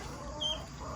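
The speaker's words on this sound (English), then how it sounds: "Here's the turkeys and the guineas." Turkeys and guinea fowl held in a small pen on a farm call out in a steady, close chorus of clucking and squawking, with a brief louder cry rising about halfway through.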